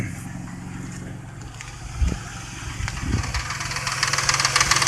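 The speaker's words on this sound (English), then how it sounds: "I hear a slight rattle every once in a while" A car engine idles steadily after a dose of Marvel Mystery Oil, with a faint intermittent rattle and a couple of brief knocks standing out over the constant low hum; no talking.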